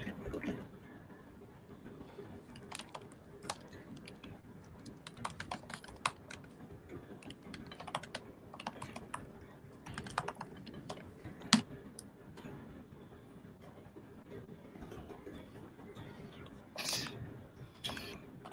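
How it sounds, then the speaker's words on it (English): Computer keyboard typing runs steadily throughout, with irregular clicks and bursts of keystrokes at moderate, close level and some faint background noise. "Let me type this in."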